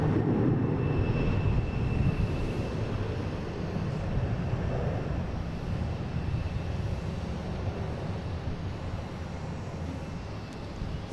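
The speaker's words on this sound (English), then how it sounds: "We got American Airlines heading to Chicago." An American Airlines plane departing Boston Logan toward Chicago gives a steady, moderately distant engine rumble that slowly fades over several seconds, heard alone without voices.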